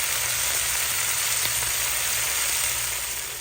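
A pot of pumpkin in water bubbles and hisses steadily up close, a continuous simmering sound that fades slightly at the end.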